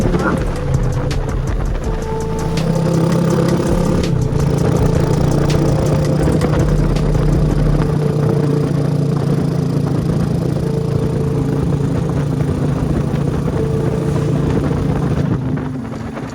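Loud, steady rumble of an idling Supra motorcycle engine and exhaust up close, with a constant low throb that runs unbroken throughout.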